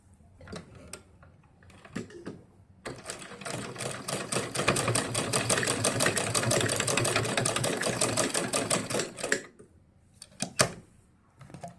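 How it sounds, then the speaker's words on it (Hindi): A sewing machine runs a steady, rapid stitch along the edge of cloth for a lehenga-style saree, loud and close for about six seconds, with quieter handling clicks before and after. "किनारे पे हम सिलाई मार रहे हैं।"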